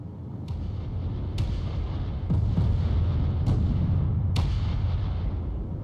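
Flak and turret fire in the video game Space Engineers: a dense, rumbling barrage with several sharp cracking bursts every second or so over a continuous low roar, no talking.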